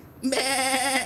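A child imitates a goat with one drawn-out, quavering bleat, close and clear.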